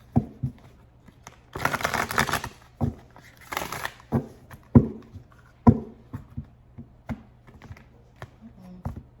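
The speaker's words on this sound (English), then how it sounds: "Let's do one more shuffle," Tarot cards being shuffled by hand during a reading, with a few bursts of riffling flutter among scattered soft taps and card snaps, close and moderately loud.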